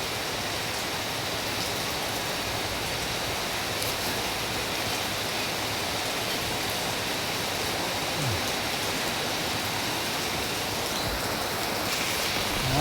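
Rain falls at a night fresh market, a dense, even hiss of downpour continuing steadily without break, fairly loud and close.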